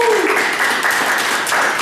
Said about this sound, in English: Let's have a round of applause for Mr. Mike Jackson.